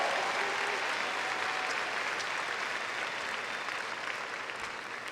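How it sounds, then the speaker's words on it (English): Audience applause at a high school graduation ceremony for the class of 2019, a steady dense wash of clapping from a large crowd that holds evenly for the whole stretch and tapers only slightly toward the end. "Please give them a big round of applause."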